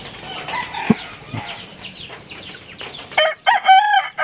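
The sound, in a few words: chickens crowing and flapping wings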